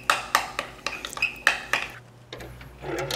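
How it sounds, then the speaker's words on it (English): Coleslaw dressing being mixed into shredded cabbage in a bowl, with a quick series of utensil clacks and scraping strokes against the bowl, close and fairly loud. "I'm gonna dump it on the cabbage and blend it all together"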